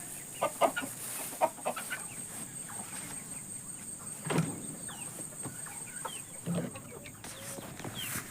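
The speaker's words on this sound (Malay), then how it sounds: "Ha, di sini ada anak-anak ayam." Chicks and a young rooster on a farm garden plot give soft, scattered clucks and short calls over steady outdoor background, some notes closer and louder than others.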